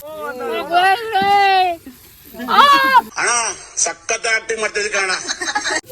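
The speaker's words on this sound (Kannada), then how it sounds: "ಗೈಸ್ ಕಬಾಬ್ ಫ್ರೈಗೆ ಎಣ್ಣೆ ಬೇರೆ ಉಯ್ತಾ ಇದಾರೆ." Fish kebab fries in oil outdoors, its crackling sizzle bursting in rapid, uneven pops during the second half after some lively voices and laughter.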